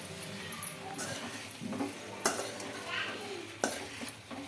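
Gram flour batter with lemon juice being stirred in a bowl, a steady scraping and swishing with occasional sharp clinks of the utensil against the vessel, fairly close and alone.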